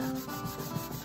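Wax being rubbed over the clear-lacquered body of a 1950s Harmony Monterey guitar, a short, continuous, close scrubbing rasp at an even level.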